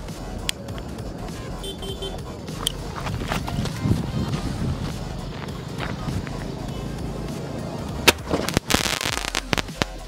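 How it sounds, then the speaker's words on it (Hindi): A small sky shot firework is lit and tested outdoors during a 4th of July crackers session, giving sharp cracking pops and a burst near the end over faint background noise, with someone talking. "ये मेरे पास दो स्काई शॉट है छोटे वाले, इसमें से अभी एक टेस्ट करते हैं"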